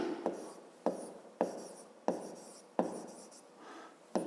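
A pen writes numbers on paper, making close, quiet scratching strokes. Sharp taps of the pen mark out a steady rhythm of about seven strokes.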